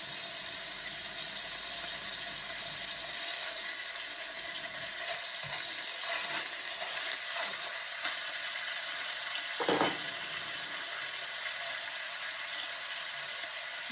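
A pan of alfredo sauce sizzling steadily and loudly after a splash of wine for deglazing, a dense continuous hiss with faint stirring scrapes and a brief clank near the end.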